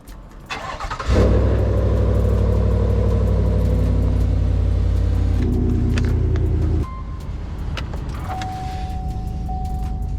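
A GMC Sierra 6.2 pickup with a cold air intake turns over and starts, then idles with a low rumble that shifts in pitch as the truck gets underway, with a thin tone rising late.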